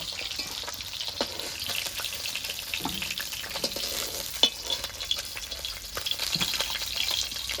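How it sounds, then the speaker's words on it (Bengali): Small rohu fish fry in a pan with a soft, steady sizzle, punctuated by faint clinks and stirring sounds and some trickling water nearby, fairly quiet and without speech. "এবার বাকি মাছগুলো এভাবে ভেজে নেব।"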